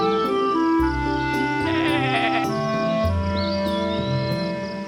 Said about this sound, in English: Watch out, Lolly, shouts Mr. Woolly the sheep.